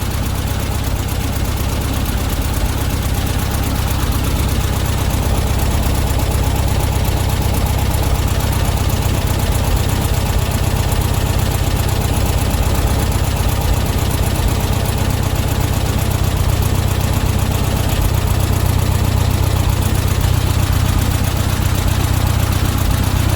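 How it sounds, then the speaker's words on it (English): A VW Beetle engine idles steadily and close up after a tune-up adjustment, a constant loud rumble with a slightly high idle that runs unbroken throughout with no talk. "you'll see the idles come up a bit high now."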